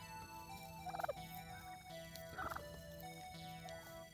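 A young bronze turkey, seven to eight months old, gobbles in two distinct rattling bursts, followed by a fainter third, over a steady low hum.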